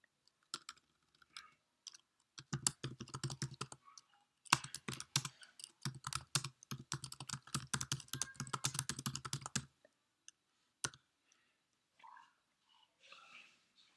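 Computer keyboard typing, a search term entered into an academic database, in quick bursts of close, crisp key clicks with short pauses, followed by a few sparse taps and faint rustling near the end.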